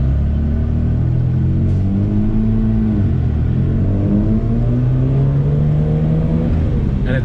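A Lamborghini LM002 engine revs loud and close while driving, its pitch climbing through gears with a shift dip midway, a steady rumbling drone throughout.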